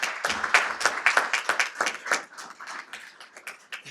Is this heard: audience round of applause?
yes